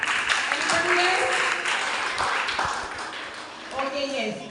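A group of primary school students claps in a classroom, a short burst of moderate applause mixed with the teacher's voice and some chatter.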